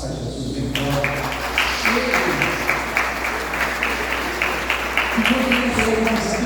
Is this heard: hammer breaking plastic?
no